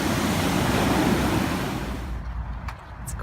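Pacific Ocean waves splash loudly and close as the tide comes in on the shore, a broad continuous wash that gradually recedes, with light wind in the microphone.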